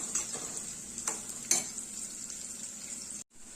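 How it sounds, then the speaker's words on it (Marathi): Chopped onion and curry leaves frying in oil in a pan, a steady bright sizzle with a few scraping stirs of a spoon, close and continuous, cutting off briefly near the end. "कढीपत्ता सो कांदा इथे आपल्याला थोडस सॉफ्ट करून घ्यायचा आहे"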